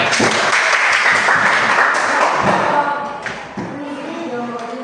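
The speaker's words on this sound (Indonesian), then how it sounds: "tepuk tangan untuk semuanya" A group applauds together at a gathering, dense steady clapping for about three seconds that thins out, with a few voices and light thumps coming through as it fades.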